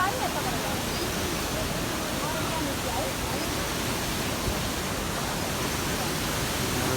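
Constant rushing water noise, dense and unbroken, like a stream pouring nearby with echoing roar, inside the Gupteshwar Mahadev cave near Davis Falls, Nepal.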